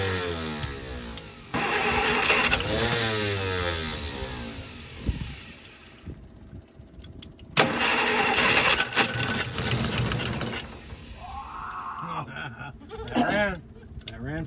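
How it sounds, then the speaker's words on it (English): A 1951 Studebaker starter cranking the engine in bursts, with the starter disengaging as it tries to catch; loud whirring spells separated by gaps, with voices talking around it. "The starter is disengaging as soon as it tries to start."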